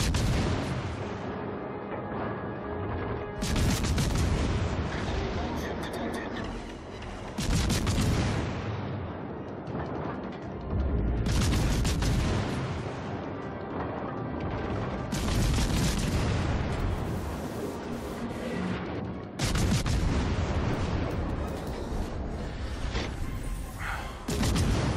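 Heavy warship guns in World of Warships Legends fire repeated booming salvos, loud and close, in long rumbling bursts with brief lulls between them, the explosions blending into a continuous roar of artillery.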